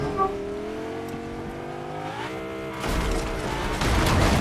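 Car engine revving in the Fortnite video game: a rising, whining motor tone builds over a couple of seconds, then gives way to louder, rougher driving noise and rumble, with no talk.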